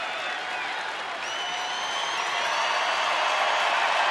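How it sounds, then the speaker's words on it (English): A baseball stadium crowd at a professional game cheers and applauds in a continuous broad roar that swells slightly louder toward the end, with a faint commentator voice beneath. "Now the crowd getting into it."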